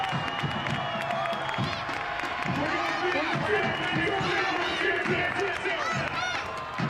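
Stadium crowd noise at a Richmond Kickers soccer match, a steady roar of cheering and chatter with whistles and shouts, a commentator talking over it.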